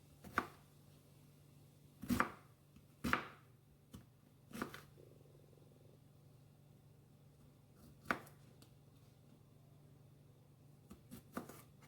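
A knife chops a whole onion on a cutting board in faint, sparse, irregular knocks spread across a quiet kitchen.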